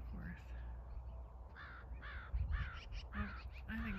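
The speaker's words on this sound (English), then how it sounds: "Oh, I think they're ravens." Several crows or ravens caw repeatedly outdoors on a farm, the harsh calls coming in short bursts at moderate distance over low wind rumble, with people talking faintly in the background.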